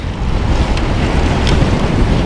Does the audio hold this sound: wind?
yes